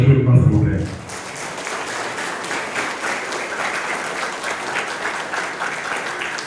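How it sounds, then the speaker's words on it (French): An audience at a school ceremony claps for the director in steady, dense, sustained applause that fills the room, following a brief stretch of someone speaking at the start. "Je vous demande encore une fois d'applaudir le directeur chaudement,"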